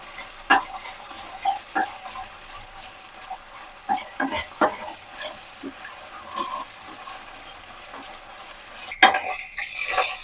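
Ginger garlic paste fries in oil in a pan for an oil brinjal dish, with a soft sizzle under repeated clinks and scrapes of a spoon stirring, and a louder scrape near the end.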